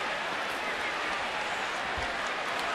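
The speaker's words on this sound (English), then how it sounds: "And you can just hear the buzz in the crowd." Thick, steady crowd buzz filling a baseball stadium during a Yankees at Orioles game, a continuous roar of many voices with faint clapping mixed in.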